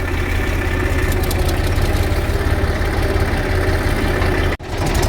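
A tractor engine idling steadily nearby, a low continuous rumble with a rough vibrating texture and a brief cutout near the end, no voices.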